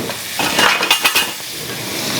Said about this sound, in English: Saute that around for just a bit.